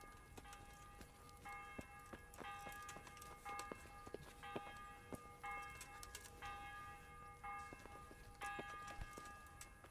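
Church bells ring in Kingdom Come: Deliverance, repeated overlapping peals tolling in irregular clusters, faint and distant with a steady background hum.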